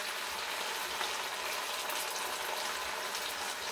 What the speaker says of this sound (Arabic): واسيب الطماطم بتاعتي تتسبك عشان ابدا اتبلها بعد كده